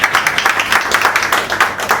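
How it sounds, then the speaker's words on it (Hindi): Audience applause at a business family dinner meet, a steady burst of clapping from many hands filling the room for about two seconds. "तालियां हो जाए इनके लिए।"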